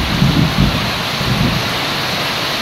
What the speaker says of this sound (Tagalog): Kumukulog-kulog pa, kidlat.